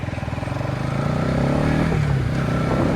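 A Bajaj Pulsar NS200 motorcycle being ridden, its engine droning steadily and close, with the pitch rising and then dropping as it shifts gears, and no voices over it.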